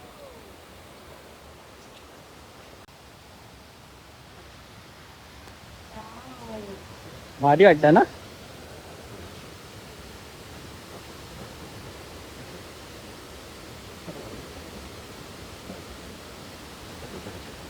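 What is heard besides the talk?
waterfall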